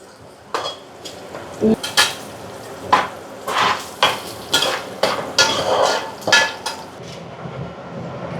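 Fish frying in a pan for fish pulusu, where a loud regular series of metal scrapes and clatters from a utensil against the pan rides over a low sizzle, close by.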